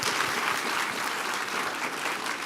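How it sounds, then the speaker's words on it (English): Audience applause at an author book event for a children's book, a steady dense clapping from a seated crowd that fills the whole moment without talk. "let's give them a round of applause"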